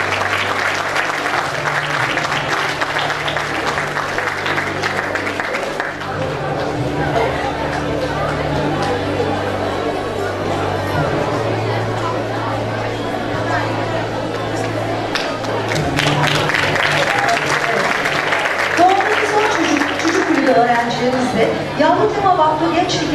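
Applause from an audience at an award ceremony in İzmir, sustained steady clapping mixed with crowd chatter and background talk, swelling louder toward the end.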